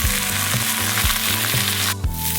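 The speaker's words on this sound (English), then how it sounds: "So we're gonna fry that up. Hopefully it won't stick to my pan." Meat for a keto Big Mac casserole fries loudly in a pan, giving a dense crackling sizzle. A low droning hum with repeated swells runs underneath, and the sound dips briefly near the end.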